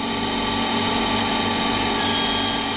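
A small CNC lathe cuts an M12 by 1 pitch thread on a brass fitting at 2,700 RPM, producing a loud, steady machine whine and hum that lasts throughout without a break.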